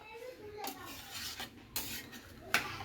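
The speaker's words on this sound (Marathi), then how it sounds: "तर हे बघा, असं छान हलवते." A spoon stirs chicken gravy with mint and coriander in a metal pot, giving soft scraping and a few sharp clinks against the rim amid quiet kitchen background and faint children's voices.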